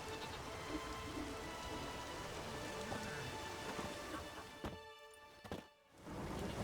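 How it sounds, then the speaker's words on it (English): Steady rain falls throughout a rainy scene in The Witcher video game, a dense continuous hiss that briefly drops out near the end before returning. "There's no point standing here in the rain."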